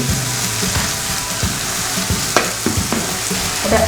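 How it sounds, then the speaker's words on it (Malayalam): Okra with spices sautés in a pan, a loud, steady frying sizzle broken by the scrape and clatter of stirring, with no voices. "നല്ലോണം വഴണം. നമുക്ക് ഇളക്കി കൊടുക്കാം."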